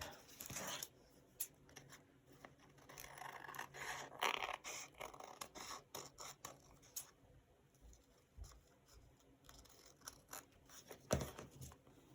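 Scissors snip and trim paper during paper-bag folio journal crafting, giving a series of short, close, quiet cuts and scrapes with irregular rhythm and small rustles between them.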